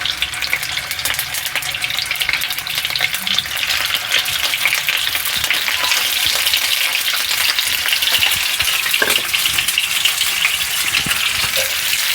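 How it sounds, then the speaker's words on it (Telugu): Eggs fry in hot oil in a pan, giving a steady, loud, dense sizzle with crackling spatter that runs continuously without pause. "గుడ్లు ఫ్రై చేసుకుంటే బాగుంటుందండి మనకి అంతే కొద్దిగా వేడి అయిపోతే నూనె వేసుకోవడమే"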